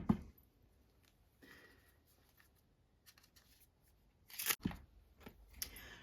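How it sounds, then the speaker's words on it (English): Dry papery rustling and flicking of tarot cards being shuffled, with a sharper burst of riffling near the end; quiet, close, no talking. "I'll give these a shuffle."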